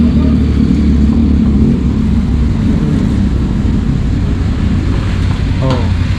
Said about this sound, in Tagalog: Yung motor big bike.